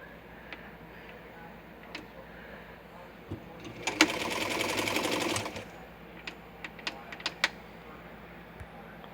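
A vintage Brother model 151 sewing machine runs in a short burst of fast stitching, framed by quiet clicks and ticks of handling before and after, at close range.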